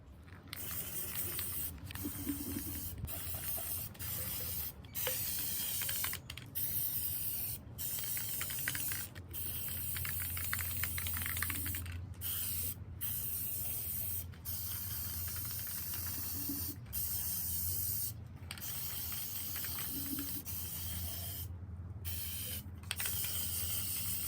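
Spray paint coats going onto thrifted glass vases, a continuous close hiss of aerosol bursts with brief gaps where the nozzle is released, no voices.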